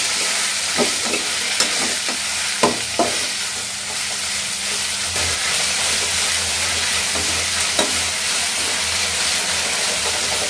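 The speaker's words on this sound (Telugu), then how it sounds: "ఈ నీళ్ళన్నీ వంపేసి పెట్టుకున్న చిక్కుడుకాయ ఇందులో వేస్తాను. బాగా మిక్స్ చేయండి." Broad beans frying in a pan, a loud steady sizzle and hiss punctuated by several sharp spatula scrapes and clanks as they are stirred.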